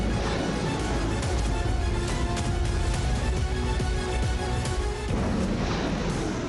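A Ukrainian anti-aircraft missile strikes a Russian Su-25 fighter jet in the sky over the Donetsk region. The blast is a loud, continuous roar of rumbling booms, broken by repeated sharp cracks and bursts throughout.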